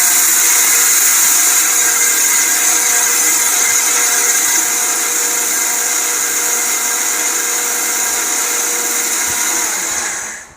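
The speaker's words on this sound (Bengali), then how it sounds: "আমরা কিয়াম কোম্পানির একটা ব্লেন্ডার দেখাচ্ছি, 750 ওয়াট, দেখি কতটুকু শক্তি আছে।" A 750-watt Kiam blender grinds dry rice into flour with a loud, steady high-pitched whir that holds for about ten seconds before spinning down at the end.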